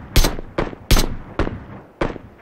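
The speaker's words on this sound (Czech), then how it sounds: "Přímo pod náma střílí s tím SKSkem někde." Sharp SKS rifle shots in PUBG, five loud separate reports spaced roughly half a second apart, each with a brief decaying tail, with no talking over them.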